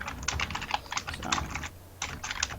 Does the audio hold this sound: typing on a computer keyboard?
yes